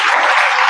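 Brief burst of audience clapping during a network-building training seminar, a dense, loud patter of many hands heard alone for under a second.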